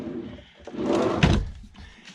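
Cabinet drawer with a travel lock sliding open or shut in the galley of a 2008 Monaco Signature 45-foot motorhome, a short rolling rumble that ends in a soft thump, close and alone.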